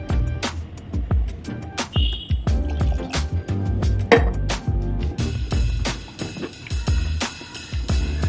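Thick goat intestine gravy bubbling and popping in a pot, a steady stream of soft plops and small bursts, close by with no talking.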